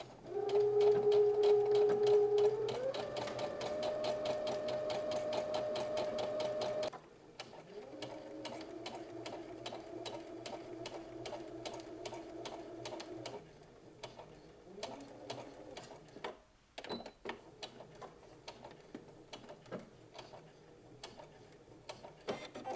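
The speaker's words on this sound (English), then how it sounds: "we're going to go to the sewing machine and we're going to stitch from one end of the bodice or the facing all the way around to the other end" A sewing machine stitches a facing onto a dress bodice, running in a fast steady rhythm close by, pausing briefly and then continuing with shorter runs and back stitches.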